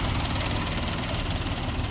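A three-cylinder, rear-wheel-drive Bulat 240 mini tractor engine idles steadily, a constant low rumble heard close with no voices.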